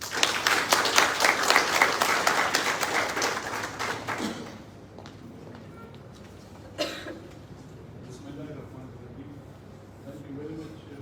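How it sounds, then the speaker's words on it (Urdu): A crowd applauds at a World Blood Donor Day celebration with dense, steady clapping for about four seconds, then it fades into quiet room murmur with a single loud knock. "آپ سب کی بھرپور تالیوں میں پروفیسر ڈاکٹر ادریس صاحب."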